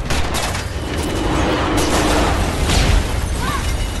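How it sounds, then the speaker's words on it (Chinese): Rapid gunfire strafing in a sci-fi film set in a 2079 space prison, fired from a pistol snatched from a guard, a dense crackling barrage layered with booms and impacts that runs continuously across the scene. "一番扫射之后，独眼成功反杀在场的所有警察，而小白也不幸中枪受伤。"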